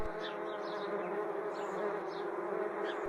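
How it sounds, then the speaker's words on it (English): A dense, continuous buzzing of many wasps fills the space, steady and close, with no voices. "They dived and hummed and buzzed and ate."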